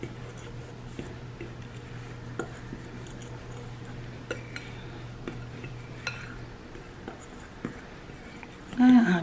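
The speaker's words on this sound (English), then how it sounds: "we're just gonna mix this dry mix together" Dry chocolate chip cookie mix of flour, baking soda and salt being stirred in a bowl, soft scraping and light utensil taps recurring quietly, ending in a brief louder rustle.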